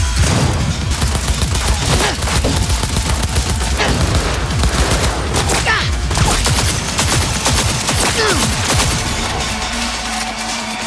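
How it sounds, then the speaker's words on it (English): Dense, rapid automatic gunfire from a firefight in the video game Cyberpunk 2077 rattles loudly and almost continuously throughout, with overlapping bursts and occasional louder impacts. "they're shooting at us. So, of course, I gotta shoot back"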